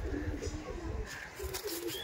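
A pigeon coos in low, soft bursts nearby while a voice speaks alongside it in a loft, the calls faint and broken up.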